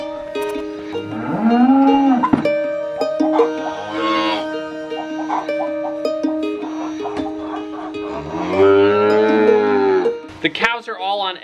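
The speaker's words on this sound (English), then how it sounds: "The cows are all on edge this morning." Cows and calves in a barn moo loudly and up close, several long drawn-out calls with overlapping bellows and a bit of ambient clatter between them, with no talking.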